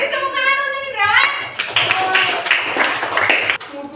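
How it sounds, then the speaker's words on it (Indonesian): A school class claps for a pupil after a counseling lesson, a burst of quick, close hand claps following a voice, with children's chatter and tapping mixed in. "Tepuk tangan untuk Indrawan."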